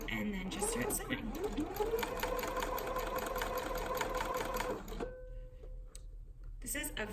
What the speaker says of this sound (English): then you kind of fold it over to get it started, and then just start sewing.